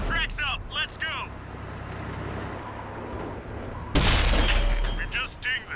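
A tank cannon fires and strikes an enemy in a video game: one sudden, loud, sharp blast with a rumbling tail, set against steady engine-like rumble and brief chirpy sounds earlier on.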